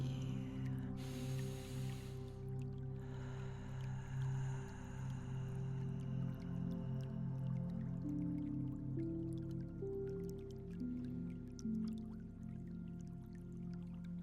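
Gentle trickling of a small stream with soft drips, steady and close, laid over a low sustained musical drone throughout, with no voices.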